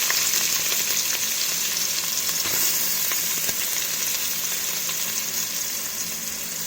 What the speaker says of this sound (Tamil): இது ரம்ப இலை, இதையும் போட்டு நல்லா வதக்கலாம்